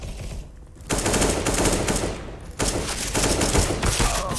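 Counter-Strike: Global Offensive deathmatch gunfire: dense, loud bursts of rapid automatic shots, briefly dropping off before resuming, nearly continuous over a few seconds.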